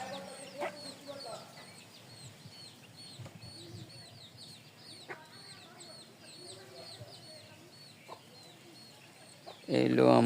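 Free-range desi hens on a rainy, overcast rooftop farm cluck softly and repeatedly at moderate distance, with occasional sharper calls and a louder burst of clucking at the end.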